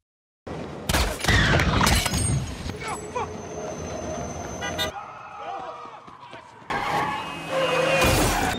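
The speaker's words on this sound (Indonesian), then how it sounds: "Wesley tanpa sengaja melihat Cross di depannya dan mereka pun saling menembak" Gunfire rings out in a film shootout as two men shoot at each other, in rapid, loud bursts of shots. The shots sit in a busy, chaotic mix of rumbling and clattering action noise, with some voices.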